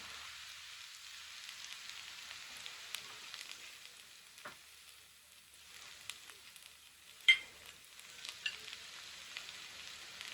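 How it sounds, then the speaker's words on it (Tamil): Chicken stock going into a hot pan for green egg rice, a steady soft sizzle and frying hiss running throughout with a few brief clicks and spatters, no voices. "சிக்கன் ஸ்டாக் போடுறேன்."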